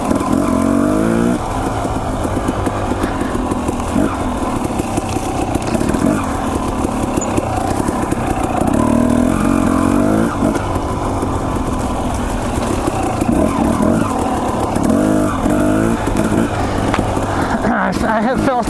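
Dirt bike engine on lush, thick jungle single track, a loud, continuous revving drone that rises and falls with throttle changes, with someone talking over it throughout.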